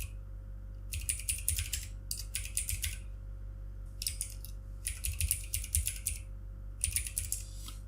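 Computer keyboard typing in short bursts of rapid, close key clicks separated by brief pauses, over a low steady hum.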